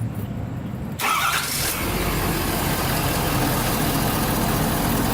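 A Ford Super Duty pickup truck engine cranks and catches, then settles into a loud, steady idle rumble that continues to the end.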